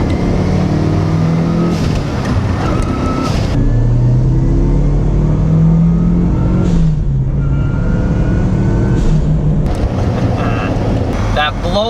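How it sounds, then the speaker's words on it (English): Turbocharged engine of a first-generation Mitsubishi Lancer Evo RS revving hard through rising gear pulls, with sharp blow-off valve bursts between shifts, loud and close inside the car. "That blow-off valve sounds incredible."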